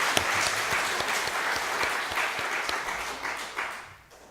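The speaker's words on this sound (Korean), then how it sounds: "오늘 같은 때 여러분 뜨거운 박수로 한번 격려하면 좋겠습니다." A church congregation applauding during a Korean Sunday service, a dense, sustained round of clapping from many hands that fills the room evenly before tapering off at the end.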